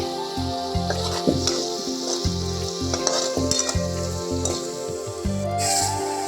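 Onion paste sizzles steadily in a generous amount of hot oil for a paneer curry, with a constant frying hiss broken by intermittent stirring scrapes and clanks, close up and with no talking.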